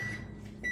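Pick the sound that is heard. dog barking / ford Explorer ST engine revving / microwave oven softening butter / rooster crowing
microwave oven softening butter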